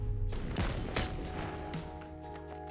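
Gunfire in the Bonelab video game: a rapid cluster of sharp shots cracks out up close, followed by a ringing, slowly fading tail.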